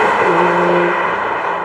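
A BMW M2 drives on a very cold day, its engine holding a steady hum with a sustained tone from inside the car, continuous and fairly loud throughout.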